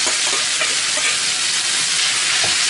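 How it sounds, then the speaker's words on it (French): Noodles stir-fry with beef in a hot pan, giving a loud, continuous close sizzle with faint stirring scrapes and no talk. "on voit que les pâtes commencent à frire hein, ici"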